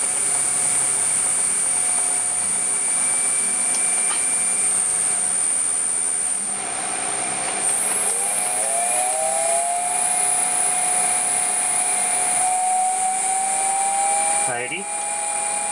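A 0.75 kW Mechtric three-phase electric motor runs on test with a steady whine and hum, its pitch climbing midway as the speed changes, and a voice speaks over the continuous drone.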